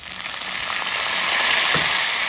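Sandge, sun-dried lentil dumplings, frying with tomatoes and onion in hot oil make a loud, dense, steady hiss of sizzling up close that swells slightly as it goes on.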